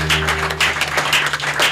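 A church congregation applauding and acclaiming during a worship celebration, dense continuous clapping with a low sustained hum underneath, loud and close throughout.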